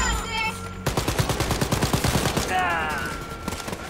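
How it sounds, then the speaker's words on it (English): Rapid automatic gunfire in the shooter game Wolfenstein: Youngblood, a quick burst of close, loud repeated shots lasting a few seconds, with game sound effects around it. "This guy's literally shooting me."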